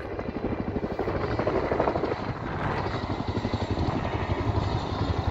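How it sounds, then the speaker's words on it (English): A Sanook helicopter passing overhead on an outing in Sussex, England, with loud steady rotor chop and a broad engine roar that stays close and dominant throughout. "Sanook helicopter."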